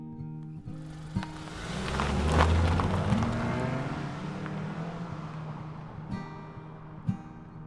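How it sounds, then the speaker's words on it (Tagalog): A car pulls away and recedes, a broad engine and tire rumble swelling within the first few seconds and then slowly fading, with a couple of sharp knocks near the start and toward the end. "Narinig ko na lang ang papalayong sasakyan ni Zeke."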